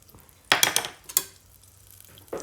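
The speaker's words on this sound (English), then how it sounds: "when you add the flour, you quickly mix" Flour is quickly stirred into a paste in a hot pan for scalloped potatoes, giving a few sharp scraping, sizzling strokes in bursts with quiet gaps between.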